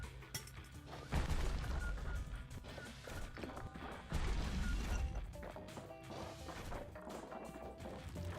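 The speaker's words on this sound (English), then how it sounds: "I can just launch mortars at you" Mortars launched and exploding in the video game Bastion, heavy crashing booms in two strong bursts over a busy, dense game soundscape.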